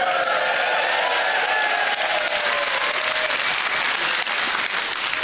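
A Harrogate audience at a stand-up comedy show breaks into loud, sustained applause, a dense full roar of clapping with a few whoops over it, holding steady throughout.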